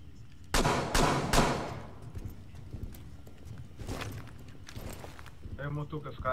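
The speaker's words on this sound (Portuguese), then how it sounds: "Teve uns tiros aqui." A few sharp gunshots burst out early in the clip in the video game Rainbow Six Siege, followed by rustling and scattered clatter, with a voice speaking Portuguese at the end.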